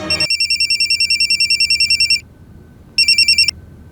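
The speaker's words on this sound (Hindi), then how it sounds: "रिंग जा रहे हैं अंदर" An office telephone rings in a repeating electronic trill, a long burst of rapid pulses, a short pause, then a second shorter burst, loud and close with no talking.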